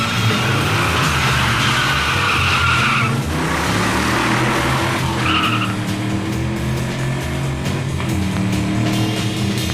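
A 1965 Pontiac GTO accelerating hard on the GM Proving Grounds test track, with a loud, continuous engine roar and rising tire and wind noise sustained throughout, close and dominant.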